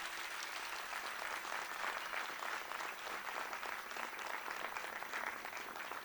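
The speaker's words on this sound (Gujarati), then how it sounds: "લગાવ જોરદાર તાળી." Loud, sustained applause from an audience at an arangetram dance debut, a dense wash of many hands clapping steadily for the full six seconds with no voices standing out.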